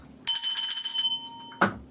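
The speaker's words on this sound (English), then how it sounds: "Ring the bell." A bright bell rings in a quick rattling burst for about a second, then fades, followed by one short sharp strike; close and loud with no talking.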